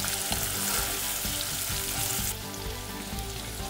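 Chopped onions added to hot oil with cinnamon, cardamom and bay leaves for chicken pulao, frying in a close, dense, continuous sizzle with light stirring scrapes throughout.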